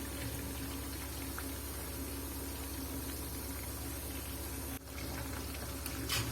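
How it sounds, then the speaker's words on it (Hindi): Chicken pakora frying in hot oil, a steady, even sizzle and bubbling that runs continuously at moderate level, with a brief dip near the end and no talking. "फिर से इसको आपने 8 मिनट के लिए फ्राई करना है"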